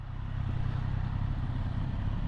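Several motorcycles ridden back from a Sunday outing make a steady, muffled engine drone, a continuous low rumble at moderate distance with no talking.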